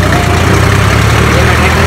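A tractor engine running loud and close, with a steady low rumble throughout and a voice talking over it.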